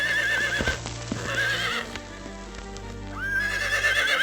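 Wild horses (baguales) in the Patagonian steppe of Torres del Paine, whinnying loudly and repeatedly at close range while hooves clip-clop underneath, with no voices.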